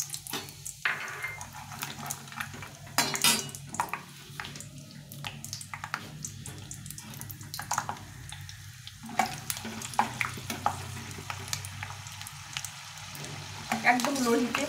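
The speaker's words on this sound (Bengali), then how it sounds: "এখন এই বাদামটা ভেজে নেব।" Peanuts fry in hot oil over low heat in a home kitchen, a steady soft sizzle with occasional stirring clinks and splashes, faint and continuous throughout.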